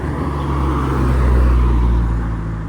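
A loud car engine drones steadily nearby as it downshifts, its low rumble swelling slightly in the middle before easing off, with no voices.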